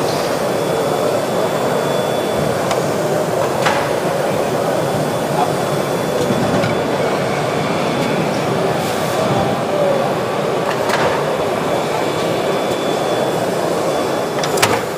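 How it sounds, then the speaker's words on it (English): A PLASTgrommet machine sets eyelets into banner corners at the FESPA Berlin 2022 trade show, giving a steady loud mechanical hum with a few faint clicks and knocks over continuous hall noise. "We are setting the eyelets on the corner."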